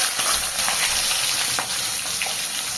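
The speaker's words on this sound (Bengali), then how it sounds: "তেল গরম হয়ে গেছে, মাছ দিয়ে দেবো।" A fish head fries in hot mustard oil in a kadai, a loud continuous sizzle and crackle close up with scattered sharper pops, no voices.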